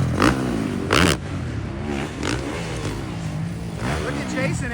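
Supercross motorcycles lap a dirt track before the fans arrive, engines revving and fading as bikes pass at varying distances, with a commentator talking over them.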